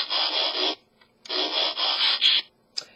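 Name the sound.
original G1 Transformers transforming sound effect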